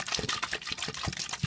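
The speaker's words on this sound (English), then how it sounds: "So then you just dump out all that old water that you don't want anymore" Splashing, gurgling water poured out of a hamster's water bottle, a brief continuous slosh close by.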